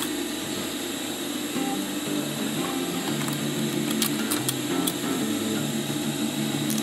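A sewing machine stitches a 30-litre backpack in a steady mechanical whir with clicking, needle-driven rhythm, close and continuous with a few sharper ticks near the end.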